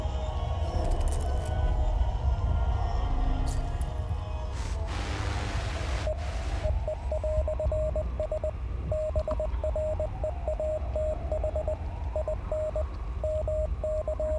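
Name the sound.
Morse code signal in video game Hell Is Us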